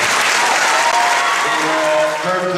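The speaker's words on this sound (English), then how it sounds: "I think we'll give them all a round of applause" Audience at a talent competition final gives a loud, sustained round of applause, dense clapping filling the whole moment, with faint voices underneath.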